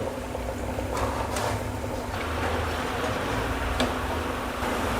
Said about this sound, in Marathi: चांगलं लालसर तळून घेते